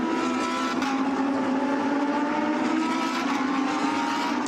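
Lamborghini Super Trofeo race cars at Yeongam circuit near the end of an opening lap, a steady continuous engine roar at moderate distance, sustained without clear passes or gaps and no talk.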